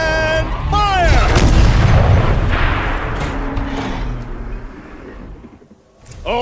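A turret opens fire in Horizon Zero Dawn Remastered with a heavy booming blast and a rumbling roll that fades over several seconds, preceded by chirpy whistling tones, then a sharp new hit near the end.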